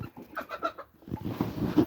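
Pet hens, including a Silkie, cluck in a quick run of short close notes followed by a softer, rougher murmur, fairly quiet with no talk.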